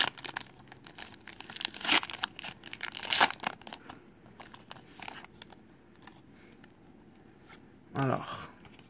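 A Pokémon Règnes des glaces booster pack wrapper crinkles and tears in several short bursts, with a longer rustle near the end, close and fairly quiet under a voice talking.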